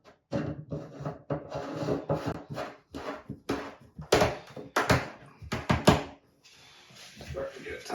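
A threaded plastic piece is screwed onto a rubber seal and friction ring on a mobile home bathroom plumbing fitting, giving close, uneven rubbing and grinding scrapes in short bursts separated by brief pauses.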